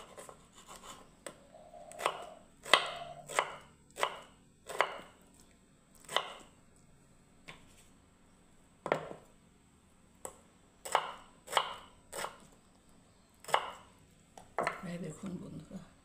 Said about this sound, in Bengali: এবার আমি টমেটোটা কাটবো।